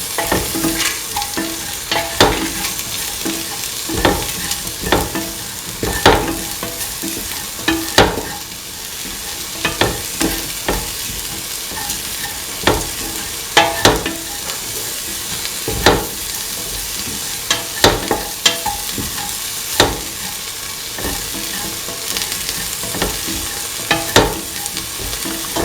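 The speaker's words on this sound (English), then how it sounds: "Mix your spices thoroughly with the rest of the mixture." Spices being stirred through an ivy gourd and green peas mixture in a hot pan, with a steady soft sizzle and repeated sharp scrapes and taps of the spoon against the pan at an uneven rhythm, close up and without talk.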